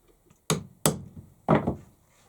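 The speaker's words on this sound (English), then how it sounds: "I'll just centre punch the 4 holes" A centre punch is struck with a hammer into wood to mark screw holes. There are three sharp, close knocks, the first two in quick succession and the third after a short pause, with no talk.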